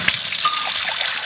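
Cool tap water runs into a container, a brief close rushing gush with a bright splashing hiss, heard alone.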